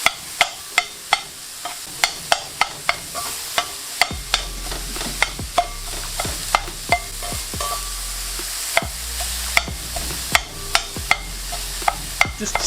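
Meat and chopped vegetables cooking for a chopped cheese sandwich, with repeated sharp clacks of a utensil against the pan over a continuous low sizzle.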